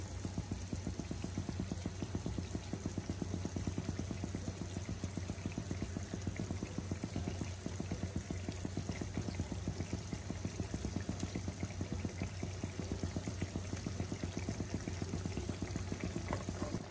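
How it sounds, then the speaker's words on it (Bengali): Bengali fish jhal gravy with boroli fish bubbling steadily in a pan, a continuous close simmering hiss with dense rapid pops throughout, heard alone without talk. "দেখো ঝোল আমার ফুটে গেছে।"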